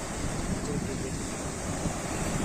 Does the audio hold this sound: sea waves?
yes